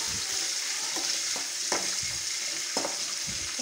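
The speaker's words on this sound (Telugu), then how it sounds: "ఇప్పుడు పచ్చిమిర్చి కొంచెం లైట్గా వేయించుకోవాలి." Green chillies fry lightly in a pan with fenugreek seeds for a tomato chutney, giving a soft, steady sizzle broken by a few quiet scrapes and taps of a spoon against the pan.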